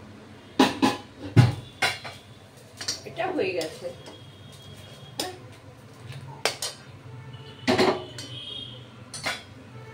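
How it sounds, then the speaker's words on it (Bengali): Metal wok set down on a stove in a home kitchen, with sharp clanks and knocks of cookware and utensils scattered among quieter handling noise, while someone speaks briefly. "এবার আমি এই কড়াই বসালাম, এর মধ্যে আমি তেল দিলাম"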